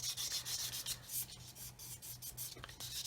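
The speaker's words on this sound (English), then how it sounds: "this is the polishing side, and I can basically now polish around that" Steady rubbing of green paint being polished off a plastic Revell 1/144 Apollo Saturn V model kit, a soft continuous scratchy friction with brief strokes, close and quiet, no talking.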